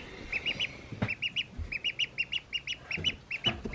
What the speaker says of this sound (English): All right, here's this duck.